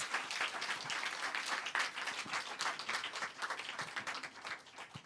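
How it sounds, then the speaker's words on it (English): An audience at a summer camp student concert applauds with a dense, even round of clapping heard fairly close, steady throughout and easing off a little at the end. "Please give them a big round of applause."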